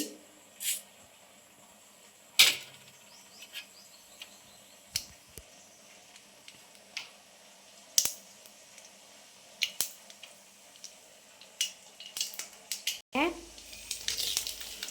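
Mustard seeds and urad dal crackling in hot oil, sharp scattered pops and spits over a faint sizzle, growing denser toward the end, with a voice speaking at times.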